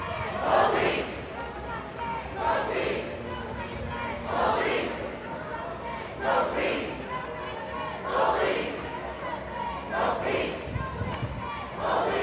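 A large protest crowd at a solidarity rally in Akron, Ohio, chanting in loud, regular rhythmic surges about every two seconds, with steady crowd noise between them.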